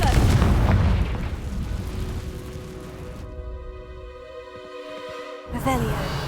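A Confringo fire spell from the Hogwarts Legacy video game bursts in a loud booming blast, then fades into a lingering rumble and ringing magical tones that swell again near the end.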